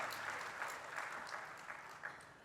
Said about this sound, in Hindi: देखो अपनी प्रशंसा सुनकर तालियां कैसे बजा लेते हो।